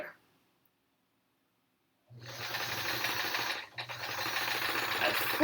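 A sewing machine stitching quilt pieces for a Triangle Tango quilt starts after a brief silence and runs in a fast, steady close-up whir, pausing for a moment midway before continuing.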